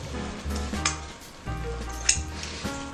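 A pasta sauce with dried beef, calabresa sausage and bacon sizzles steadily in a pan while being stirred, with soft scraping and a couple of brief metallic clinks over the constant frying hiss.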